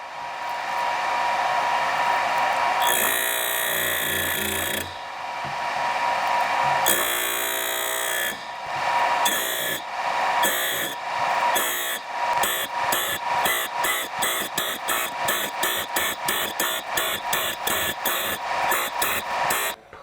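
Vevor saw blade sharpener grinding the teeth of a saw blade, a loud high-pitched grinding whine in long passes at first, then turning into rapid, evenly spaced short bursts as each tooth is ground in turn; no talking.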